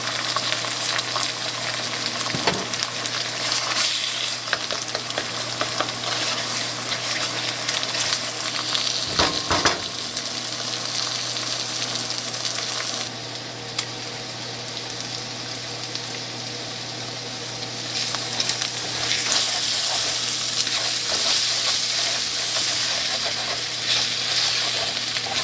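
An egg fries steadily in a pan for pineapple fried rice, a continuous loud sizzle with occasional stirring scrapes, holding without talk across the whole stretch.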